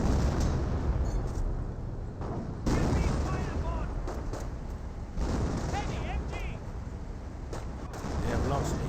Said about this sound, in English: And do have now some artillery being brought on in.